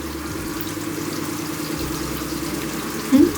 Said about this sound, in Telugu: ఇలా పప్పు మొత్తం నీళ్లు కలుపుకుని